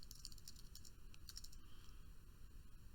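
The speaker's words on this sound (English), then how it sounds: "I'll type in my password." Fingers tap out a password on a computer keyboard, a short run of light, quick keystrokes, quiet and close, with no voices.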